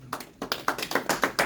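A church congregation claps together in a quick, steady rhythm of about a dozen sharp claps across a moment of applause, close and fairly loud.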